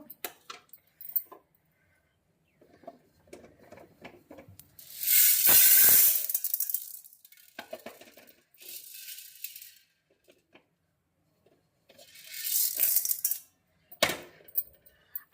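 Roasted urad dal is tipped from the pan into another vessel, making dry rattling, pouring bursts of grains against metal, one long and one shorter, with quiet handling clinks in between.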